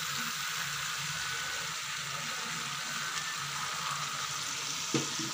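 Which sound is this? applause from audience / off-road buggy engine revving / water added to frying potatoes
water added to frying potatoes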